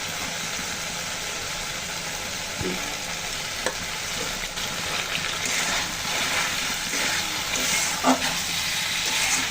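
Rohu fish and vegetable pieces for a Bengali-style curry with data stems and potatoes go into frying spice masala, giving a dense, steady sizzle with occasional soft clinks and stirring, close and without speech.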